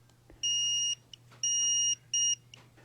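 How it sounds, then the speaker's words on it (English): Kebtek electric pruning shears powering on with three clear electronic beeps, each about half a second long and evenly spaced, ringing out alone over a faint steady hum. "Device makes a couple of beeps and a long beep."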